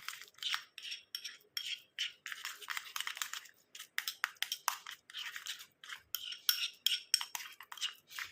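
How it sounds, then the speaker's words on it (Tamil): A thick whole-body whitening face pack stirred in a bowl, giving a steady run of close, soft scraping and clinking strokes with short pauses between them, and no voice. "எல்லாத்தையும் சேர்த்துட்டு நல்லா இந்த மாதிரி கலந்து விட்டுடலாம்"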